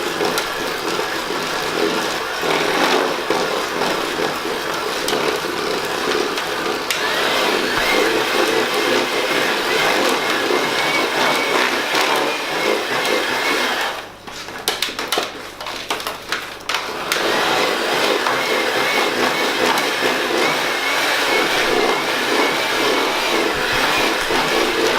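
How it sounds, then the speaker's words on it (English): Electric mixer whirring steadily through chocolate sponge cake batter, a loud continuous motor drone with a brief dip and rattle midway, no talking. "And then we're going to mix it together till it looks the same colour."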